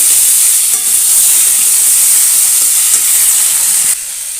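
Chopped tomato and onion fry in a pan with a loud, constant hiss and sizzle, a faint scrape of stirring beneath, the sound dropping slightly near the end.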